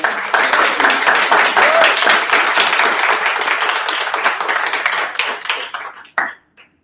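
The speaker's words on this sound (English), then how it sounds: "please, a round of applause for Nathan" After a session talk about an Alaskan adventure, a conference audience gives a round of applause for Nathan. The clapping is dense and lively, then thins out and stops, and a brief voice follows.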